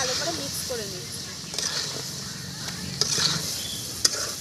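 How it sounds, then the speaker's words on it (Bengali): Fried cauliflower florets being stirred into a spiced masala in a pan, a steady sizzle with scraping spoon strokes and occasional sharper clinks, heard close with a voice talking over it. "এখন মশলার সঙ্গে ফুলকপি খুব ভালো করে মিক্স করে নিচ্ছি"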